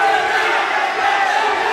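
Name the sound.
crowd cheering at York Hall fight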